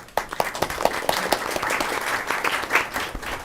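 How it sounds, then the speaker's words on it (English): Audience applause at a Rialto Unified School District board meeting, a steady patter of many hands clapping for several seconds, fairly close and continuous with no talking over it. "Let's give her a round of applause."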